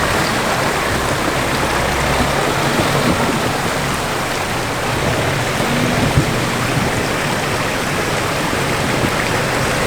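Rushing creek water flows steadily nearby in the bush, a full, continuous churning wash with low rumbling underneath and no voices.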